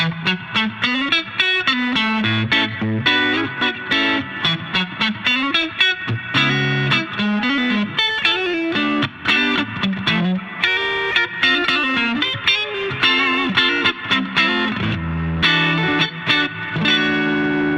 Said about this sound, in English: So that's just the clean sound with a little bit of reverb on it.